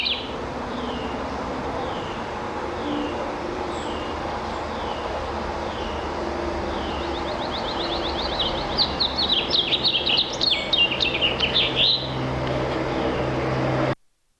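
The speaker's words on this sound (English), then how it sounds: "Its long, complex song has a twist at the end, like twiddly twiddly twiddly twiddly twee." A house finch sings a long, complex warbling song of rapid twittering phrases with a twist at the end, heard over a steady background hum in a suburban setting.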